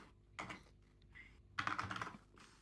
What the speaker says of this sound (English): I have a terrible keyboard. It makes a lot of sound.